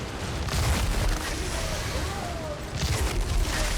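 Loud, continuous gunfire and booming explosions fill a boss fight against an altered cultist leader in the Outriders video game, dense and sustained with heavier blasts near the start and end.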